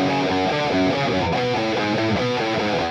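Heavily distorted electric guitar plays the rhythmic intro riff of a song, a steady, chugging pattern of repeated notes that sounds alone and fairly loud throughout.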